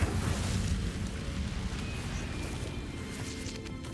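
A fire spell is cast in Hogwarts Legacy, a low rumbling whoosh of flame that flares loudly at the start and then settles into a steady roaring crackle for several seconds.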